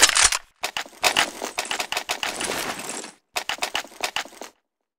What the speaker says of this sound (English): I am planting the bomb.